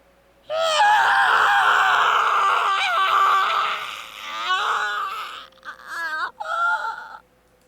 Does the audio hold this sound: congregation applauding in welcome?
no